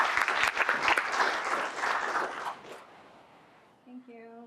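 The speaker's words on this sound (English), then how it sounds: "Big round of applause for all of these guys, please." Applause from an audience at an institute's closing ceremony for students receiving certificates, a dense burst for about three seconds that fades out, followed by a short voice at the end.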